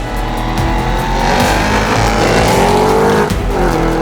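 A Cadillac CT5-V Blackwing accelerating hard through its gears, a loud, close engine roar with rising pitch sweeps and a shift break partway through, with faint tire noise.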